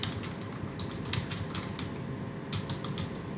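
Typing on a computer keyboard, a quick irregular patter of close, light key clicks with small bursts of faster strokes, steady and alone with no talk.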